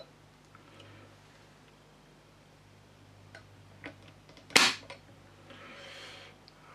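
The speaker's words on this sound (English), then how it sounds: "But let's give it a pull, just see what it is doing. Obviously it is empty, the rifle is." A single sharp metallic snap as the hammer falls on a dry trigger pull of an empty Chiappa 1892 carbine rifle, close and distinct, preceded by faint handling ticks in a quiet room.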